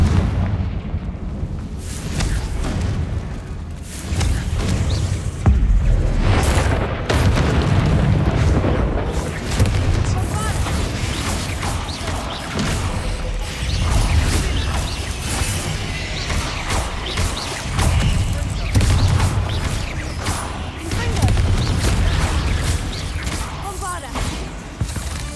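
Repeated fiery blasting-spell explosions during a spider fight in a fantasy wizard video game, heavy booming bursts recurring over a dense, continuous battle din.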